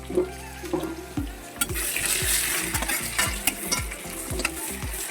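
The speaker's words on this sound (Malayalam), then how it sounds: "ഇതിന് നന്നായിട്ട് എണ്ണയ്ക്കകത്ത് കിടന്ന് നല്ല രീതിയിൽ മൂക്കണം." Ginger, garlic and onion fry in oil while a sardine pickle is cooked. A spoon stirs in repeated rhythmic scrapes, close and clear, over a bright, steady sizzle.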